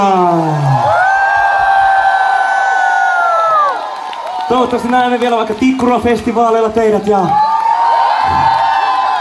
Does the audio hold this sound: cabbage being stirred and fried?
no